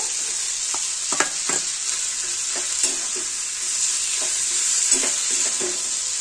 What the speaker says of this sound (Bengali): মাংসের কিমাটা ছিল আমি দিয়ে দেব